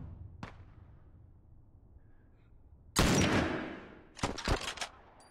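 Sniper rifle shots in The Last of Us, with a sharp crack early on, then a loud sustained burst and a cluster of several rapid reports toward the end.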